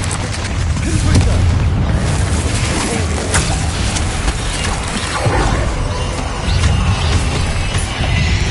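Rolling, booming blasts of a Confringo fire-curse spell in a wizard game, a dense roar of repeated explosions that stays loud and sustained throughout with no pauses.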